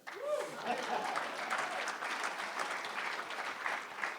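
An audience at a Des Moines Rotary civic event on ending human trafficking breaks into sustained, even applause that fills the room for several seconds.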